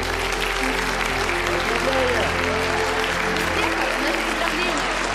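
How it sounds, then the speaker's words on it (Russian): Applause from an audience greeting the start of a book presentation, a dense, continuous wash of clapping at an even level throughout, with a low steady hum beneath. "мы объявляем начало презентации под ваши бурные аплодисменты"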